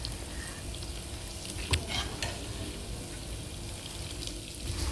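Homemade desi ghee frying in a pan, a steady soft sizzle and crackle with a few sharper pops, close and continuous with no talking.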